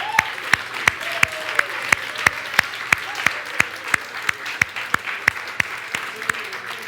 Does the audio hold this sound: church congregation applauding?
yes